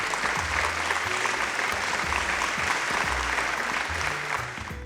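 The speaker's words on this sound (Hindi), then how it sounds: "जोरदार तालियों के साथ स्वागत" Dense, sustained applause from a large audience greets an award winner at the Green Cinema Awards 2021 ceremony, loud and continuous, then tapering slightly near the end.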